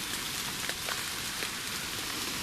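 Heavy rain pours down on Pendle Hill under low cloud, a dense, constant hiss with a few sharper drops spattering close by.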